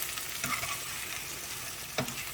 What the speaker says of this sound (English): I'm just gonna give this a stir and like saute all my vegetables in